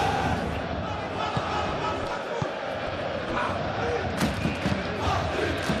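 A stadium crowd roars and chants throughout a PES 21 football match between PSG and Chelsea, a dense sustained din with sharper swells, under a commentator's voice.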